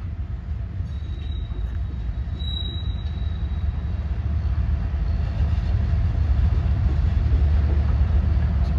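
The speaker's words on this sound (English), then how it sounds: "Yeah, it is Union Pacific. Oh, there's two of them. Two trains." Two Union Pacific trains crossing a bridge together, a continuous loud rumble and roar of rolling freight cars with a faint high squeal near the start.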